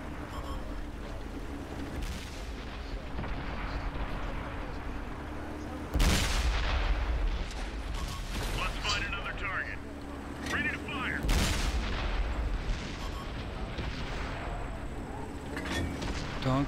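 A tank cannon fires on a target in a video game, with two heavy booms cutting through constant battlefield rumble and gunfire, while voices talk faintly underneath.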